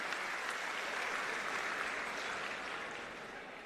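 Steady crowd applause greets a guest at a municipal corporation event, dense and continuous throughout, easing slightly toward the end with no talk over it.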